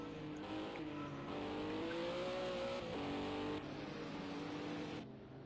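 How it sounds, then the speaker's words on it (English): Ginetta GT4 race cars circling a track in a racing video game, a steady engine drone with rising and falling harmonic pitch as they accelerate, held at moderate level throughout without speech. "it's mainly Ginettas that are going out on track at the moment"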